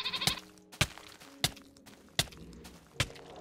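Goat-like mobs bleat in Minecraft, several short separate calls at regular intervals, fairly close, over game ambience with no talk.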